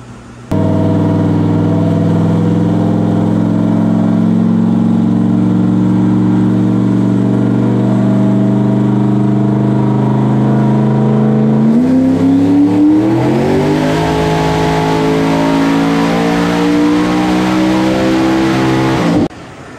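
An MRC shop car on a dyno makes a loud, close pull, its engine droning at steady revs, then climbing sharply through higher revs before abruptly cutting off.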